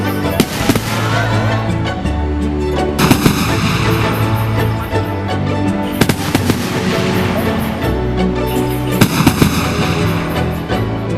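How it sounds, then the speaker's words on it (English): Fireworks explode in rapid succession, loud sharp booms and crackling bursts repeating every few seconds with no pause between them. "As each firework exploded,"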